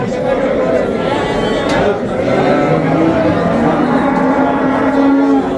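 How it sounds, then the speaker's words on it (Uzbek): Sheep bleat amid the busy Khojaobod sheep market in Andijan, Uzbekistan, mixed with other animal calls and a steady wash of crowd chatter. "Qo'ylar ko'p."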